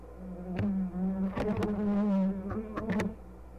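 Honey bees buzz at an open beehive during a hive check, a dense, close drone with individual insects whining past near the listener.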